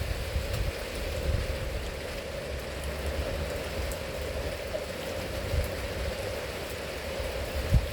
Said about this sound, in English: Yeah, during the rain.